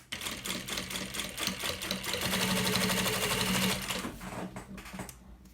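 A sewing machine sews a seam on a baby stroller bag with backstitches, its rapid needle clatter rising and falling in short bursts as it reverses, close and fairly quiet.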